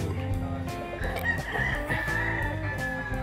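Chickens cluck steadily and a rooster crows over them at a poultry place in Tagaytay City, a dense, continuous barnyard chorus heard nearby with no talking.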